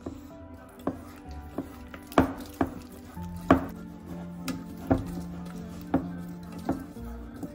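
Sugar being mixed into fruit cake batter for a homemade Christmas fruit cake: a spoon knocks against the bowl in sharp, evenly spaced taps, roughly one every second, over a faint low hum.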